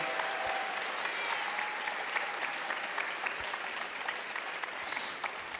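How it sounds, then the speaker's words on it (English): A steady wash of applause from a crowd, sustained and fairly even throughout, with no voices standing out. "Let's have a big round of applause for you guys."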